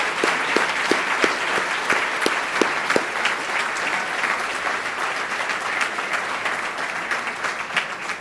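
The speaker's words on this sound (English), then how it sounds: "Please give a huge round of applause to Dr." An audience at a healthcare awards event applauds an adult volunteer award winner. A few distinct individual claps come first and then merge into sustained, fairly loud applause that continues to the end.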